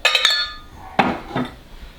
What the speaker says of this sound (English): so you get it yourself a microwave safe bowl